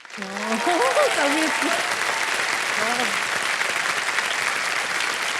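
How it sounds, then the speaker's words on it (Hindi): Studio audience applause on the Kaun Banega Crorepati quiz show, a dense, steady wash of clapping that holds throughout, with a voice speaking over it near the start. "और ताली जारी रहे क्योंकि चेक आ रहा है इनके नाम"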